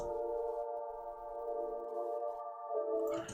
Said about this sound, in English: we get a nice kind of wah sound there